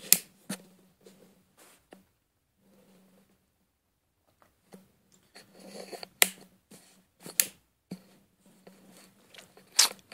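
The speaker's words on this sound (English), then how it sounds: "they also make that really cool clicking sound when you fold them in and out" V-MODA M-100 headphones folding in and out, giving a series of sharp, close plastic clicks spread irregularly over ten seconds, with a quiet gap early on and faint handling rustle between clicks.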